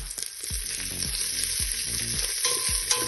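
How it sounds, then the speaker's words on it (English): Salo pork fat crackles and sizzles in a pan for Ukrainian bograch, a close steady frying hiss broken by repeated low knocks and scrapes from stirring. "So let's fry it right now."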